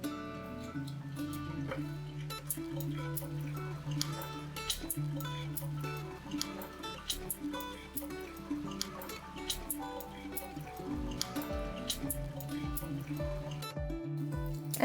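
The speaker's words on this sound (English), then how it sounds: "When the oil is hot, you can add the eggs." Quail eggs fry in hot oil in a pan, giving a steady, faint sizzle with scattered small pops and crackles throughout, alone without talk.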